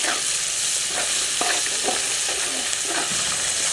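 Ginger garlic paste fries in a pan for Kabuli chicken pulao, giving a loud, continuous hiss with small pops and stirring scrapes close up.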